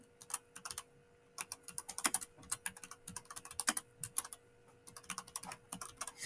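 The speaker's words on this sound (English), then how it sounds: "I'm going to type in" Steady typing on a computer keyboard, with quick bursts of key clicks and short pauses between words, close and fairly soft, with no voices.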